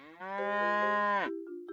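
A cow lets out a single long, loud, close moo that swells and then drops off sharply, followed by a brief quieter tail.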